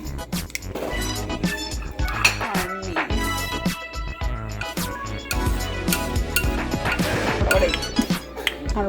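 Macaroni salad with sweet corn and parsley being stirred together in a bowl, with steady wet squishing and light utensil clinks against the bowl that continue throughout at close range.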